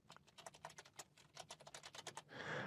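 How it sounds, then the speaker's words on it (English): Rapid typing on a computer keyboard as a search term is entered, with irregular clusters of light key clicks close up and a slightly louder, smeared burst of keystrokes at the end. "We'll click Find, and we'll type in Goods Movement."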